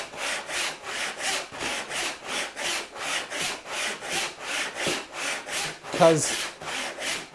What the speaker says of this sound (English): I won't try to sink this saw kerf all the way to the bottom